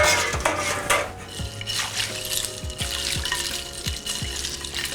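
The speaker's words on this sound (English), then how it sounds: "Dump those green beans right into the ice water bath." Cooked green beans dumped into an ice water bath in a kitchen bowl, with clattering dish and utensil clinks, splashing water and repeated sharp knocks at a close distance.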